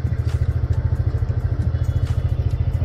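TVS Ntorq scooter engine running at raised revs, giving a steady pulsing, throbbing drone at close range with no talk over it.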